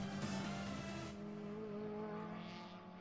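A Class F race car sliding sideways around Croft Circuit in Scotland, engine droning with a continuous tire squeal that fades as the car moves away.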